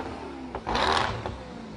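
Swedish supercar with a twin-supercharged 4.7-litre V8 producing 806 hp, revving during a Le Mans parade: one short, loud rev swells and fades against steady background engine and crowd noise.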